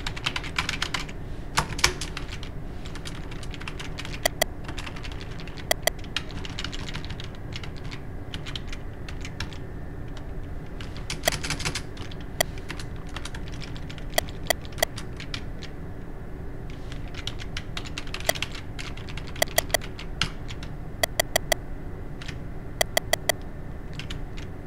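Steady typing on a computer keyboard while playing the game Paganitzu: irregular bursts of sharp key clicks, some louder taps standing out, continuing at close range over a low hum with no talking.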